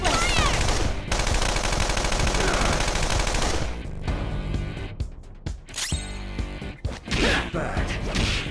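Loud, dense automatic gunfire rattles continuously through a Persona 5 Royal boss fight, breaking off into scattered bursts and sharp impacts mixed with game effects, with a voice briefly heard.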